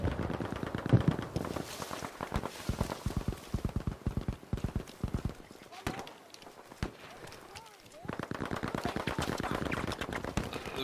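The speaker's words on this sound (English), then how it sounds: "I can hear gunfire." Battlefield 5 gameplay with rapid bursts of automatic gunfire, rattling shots that come in dense rows and stop briefly before the firing resumes.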